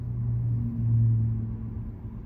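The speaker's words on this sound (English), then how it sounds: "the fan has started up" A Porsche Macan's cabin fan runs in Auto Rest mode, a steady low rumble and hum that swells slightly and then settles, heard alone with no talking.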